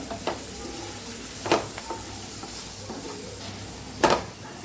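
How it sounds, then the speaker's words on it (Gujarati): Masala spices and peas sauté in a pan with a steady close sizzle, broken by a few sharp scrapes and stirring clanks of a utensil against the pan. "એક મિનિટથી આપણે મસાલાને સાતડીએ છીએ મસાલા સાથે આપણે વટાણાને સાતળી લીધા છે"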